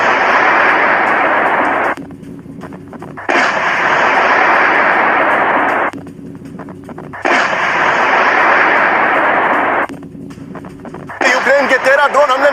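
Explosions from a drone attack on Moscow in news footage come as three long, loud roaring blasts separated by brief quieter gaps, and a voice starts talking at the end.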